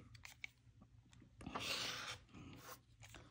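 Rotary cutter trimming a quilt fabric block along a ruler on a small 5x7 cutting mat: quiet, close scraping and rasping strokes, one longer cut in the middle, no talking.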